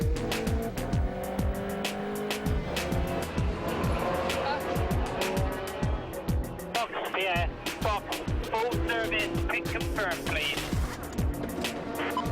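Audi R8 prototype race cars lap Sebring in an endurance race, loud high-revving engines shifting through gears again and again as cars pass close, with commentary talking over the roar.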